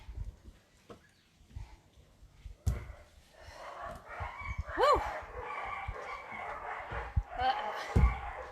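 Dogs locked up nearby bark in short bursts during a bodyweight workout, with a person's shout and breathing over them; the barks are moderately loud and intermittent.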